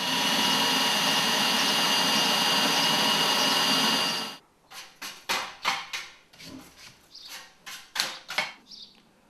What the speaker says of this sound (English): so we can drill all the rest of the holes perfectly accurately